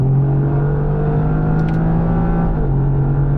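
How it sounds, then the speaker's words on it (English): Toyota GR Yaris with automatic transmission driving along, a steady engine drone with a turbo whir spooling up and holding, heard from inside the car with no talk. "And you've got all this turbo spool that's happening here, which sounds really, really cool."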